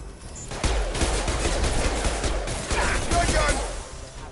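Rapid bursts of gunfire in the Mass Effect video game, dense and continuous after a brief quiet start, with overlapping shots and a steady loud roar across the whole stretch.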